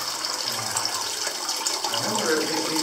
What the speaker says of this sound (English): Oh, look at this, like a waterfall here.